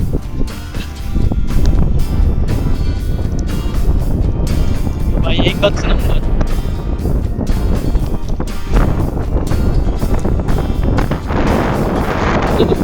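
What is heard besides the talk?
strong wind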